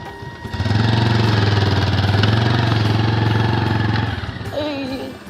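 A motorcycle engine drones loud and close while the bike struggles through loose beach sand near the Kuakata casuarina forest, a steady rough mid-pitched labour for several seconds before easing off into a lighter idle.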